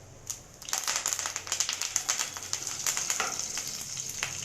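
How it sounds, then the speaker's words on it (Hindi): Curry leaves dropped into hot oil, a sudden burst of bright crackling sizzle that starts after a brief pause and keeps spitting and popping steadily, close and fairly loud. "इसके बाद में हम डालेंगे 4-5 करी लीव्स"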